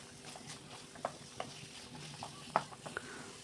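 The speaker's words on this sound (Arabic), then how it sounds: "كنقلي كلشي مزيان. هنايا كنضيف معلقه كبيره ديال معجون الطماطم" A sauce sizzles and fries in a pan after a large spoonful of tomato paste goes in with cumin, soft steady crackle and stirring with a few brief louder pops, no talking.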